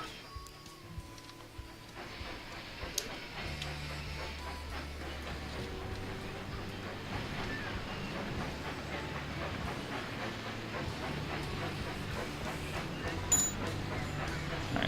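Train from the video game Railroad Tycoon 3 rolling steadily along its route, with a continuous rumble and rhythmic wheel clatter that holds at a fairly even level throughout, with no voices.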